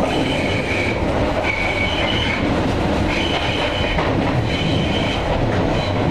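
A train rolls past close to a house in London, a loud continuous rumble of wheels on rails with rhythmic clacking and faint squealing throughout, no voices.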